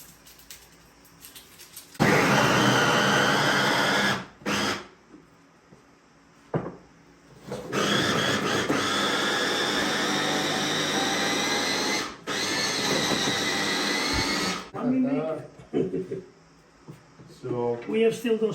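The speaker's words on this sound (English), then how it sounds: "cut it in quarters so that we can throw it in the blender" An electric blender chops quartered peeled onions in a kitchen, running loud and steady in two long bursts separated by a short pause, with brief stops and handling noises and a voice talking near the end.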